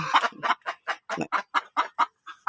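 A native hen clucks in a steady series of close, rhythmic calls before laying an egg, about ten short clucks in quick succession with no talk.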